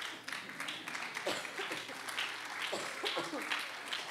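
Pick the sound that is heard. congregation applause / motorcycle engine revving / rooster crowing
congregation applause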